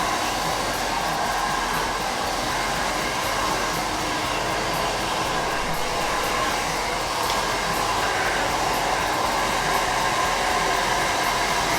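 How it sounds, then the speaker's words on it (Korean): A hair dryer blows steadily while styling a short haircut, a loud continuous rushing whoosh that barely changes and fills the whole stretch without talk. "제가 이제 마무리 드라이 해서 보여드릴게요"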